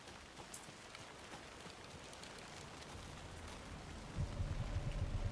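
Rain in the video game Alan Wake 2, a faint, steady hiss of falling drops that thickens slightly toward the end, with no talk.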